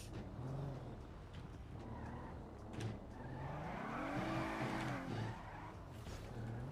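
A car drives and skids in the video game GTA, with a continuous engine drone and tires squealing in rising and falling sweeps, fairly close and steady.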